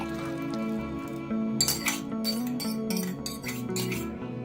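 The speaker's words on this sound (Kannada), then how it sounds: "ನೋಡಿ, ಈ ಥರ ಕಂಪ್ಲೀಟಾಗಿ ಕಲಸಿದ್ರೆ ಕಂಪ್ಲೀಟಾಗಿ ಸ್ಮ್ಯಾಶ್ ಆಗಿಬಿಡ್ಬೇಕು." Cooked lentils for sambar being stirred and mashed in a pot, with bursts of scraping and metallic clinks of a spoon against the vessel over a steady tonal hum.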